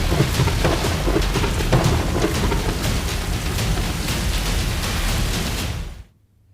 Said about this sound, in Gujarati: જૂનાગઢ જિલ્લાના મેંદરડા વિસાવદર અને બિલખા પંથકમાં ધોધમાર વરસાદ